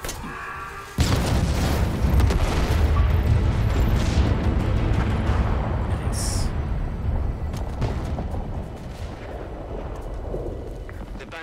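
Massive explosions erupt in a Legendary-difficulty Halo Infinite campaign battle: a sudden loud blast followed by a long rumbling roar of booms and debris, with a brief spoken word over the din.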